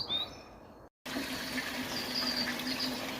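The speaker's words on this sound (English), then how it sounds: "Pumping out nicely out of both filters." A pond pump pushes water through two koi pond filters, giving a steady rushing, splashing flow of water that cuts out for a moment near the start before resuming continuously.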